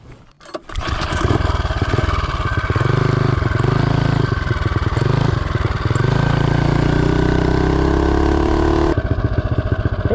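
A Mega Moto 212 minibike with a Tillotson 225 engine and a 40-tooth rear sprocket starts up and revs hard, a loud, raspy small-engine roar with brief dips between gears before settling into a steady high drone.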